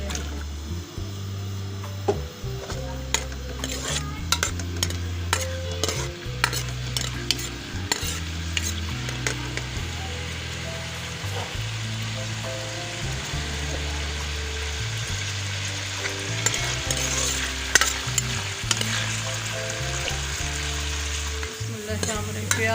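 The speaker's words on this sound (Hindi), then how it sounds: "ऑयल गरम हो गया है, मैं इसमें प्याज शामिल कर रही हूँ।" Onions frying in hot oil and being stirred in a pan, a steady close sizzle with repeated scraping and clinking from the utensil throughout and a low hum underneath.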